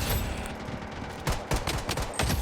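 Rapid bursts of automatic gunfire fill a round of the shooter game Blood Strike, loud and close, coming in fast crackling volleys with short gaps between them.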